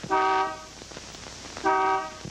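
Two loud, bright honks from an approaching car's horn in a 1938 street scene, each lasting about half a second and separated by a pause, with faint background noise between them.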